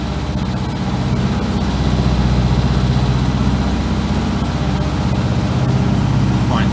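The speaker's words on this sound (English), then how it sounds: "So I'm pressing the choke in now, coming down off that fast idle." A Land Rover Series 2a long-wheelbase engine idles steadily on a cold morning as the choke is pushed in, a loud, close, low rumbling throb that runs continuously and settles slightly.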